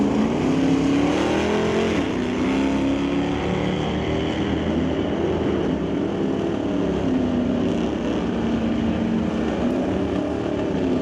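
A 1966 Plymouth Belvedere and an Oldsmobile at an NHRA drag racing event roar with loud, sustained engine noise that holds steady, the pitch dipping and rising a couple of times as they rev.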